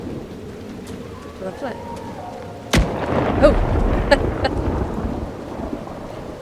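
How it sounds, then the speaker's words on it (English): A thunder and lightning storm rolls through the fantasy game Dragon Age Inquisition, with a sudden loud thunderclap cracking midway and rumbling on under rain, while a voice speaks briefly. "The lightning is trying to kill me."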